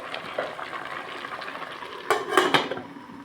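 A lid goes onto a pot of squid adobo with string beans, clattering with a couple of sharp metallic clanks near the end, preceded by light utensil scrapes and a soft simmer.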